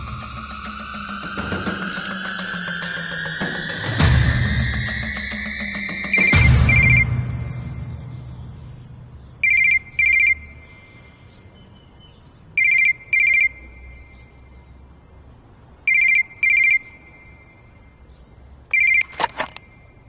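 Phone ringing in a Tamil drama scene: a rising synthetic tone plays loudly over background score, then several short, bright double-beep rings repeat at steady intervals, clear and close.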